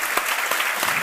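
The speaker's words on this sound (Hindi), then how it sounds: "एक बार उठ के ताली बजाओ लोग" Audience claps for an Indian gold medal winner from Bihar at the 2nd Asian Yogasana Championship, a brief burst of dense, steady crowd applause with a few sharper louder claps.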